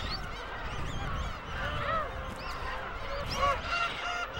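Black-tailed gulls call around a nest in a coastal colony, with repeated honking, mewing cries from several birds over a constant windy, crowded background.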